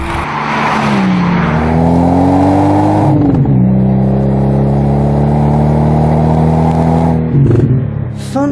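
A Toyota sports car engine revs loud and close, pitch climbing and dipping through several gear changes with a sustained roaring drone and a brief burble near the end.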